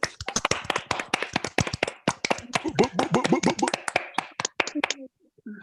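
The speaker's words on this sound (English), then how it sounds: "Another round of applause" An audience at a live show claps, dense rapid handclaps swelling and then thinning, with a short cheer near the end before the clapping fades out.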